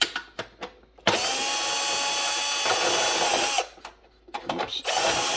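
A power drill backs out the screws of a light fixture during an under-cabinet LED light install. It opens with a few short clicks, then whirs in a loud, close, sustained run, pauses briefly, and spins up again.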